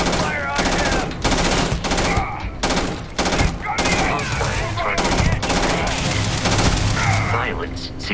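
Dense, loud gunfire erupts in Starfield, rapid automatic bursts hammering almost without pause alongside in-game voices.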